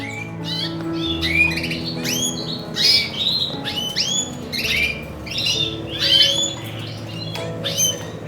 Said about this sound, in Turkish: Dişi bıcırdamaya başladı bile.